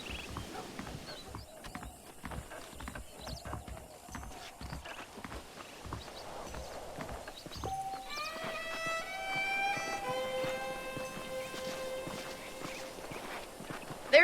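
Horse hooves clip-clop at a walking pace in the Red Dead Redemption video game, steady and mid-distance over ambient background, with a brief tonal sound near the end.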